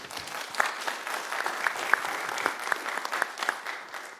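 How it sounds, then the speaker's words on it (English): Audience members at a Coral Springs city commission meeting give a round of applause, a steady moderate patter of clapping in a room, fairly quiet and heard alone. "Let's give him a round of applause"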